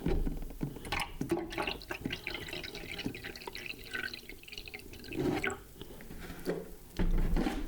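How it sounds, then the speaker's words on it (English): Water pours and splashes into a HumminGuru EZ record washer, with uneven gurgling and dripping that swells and fades over several seconds, fairly close. "And then pour the rest of the water."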